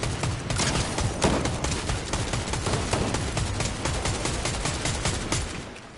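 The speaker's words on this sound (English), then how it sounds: "We're just riddling bullets on this poor guy" Continuous rapid gunfire from the Fortnite video game rattles on for several seconds, dense overlapping shots forming a loud, steady barrage with no pauses.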